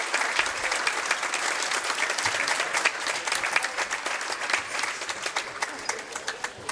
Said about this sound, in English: One more big round of Lady applause for our Panthers.